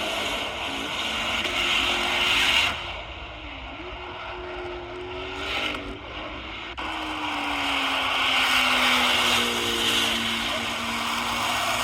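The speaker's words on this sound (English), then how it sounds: "the purple car sounds like a ZR1 to me" A purple Chevrolet Corvette ZR1 engine drones loudly at close range, its pitch rising and falling through revs with a brief dip in the middle.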